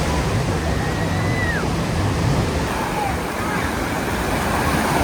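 Sea surf rolls steadily onto the beach at Mamaia Nord near Constanța, a constant broadband wash of breaking waves with some wind noise on the microphone and no break in the roar.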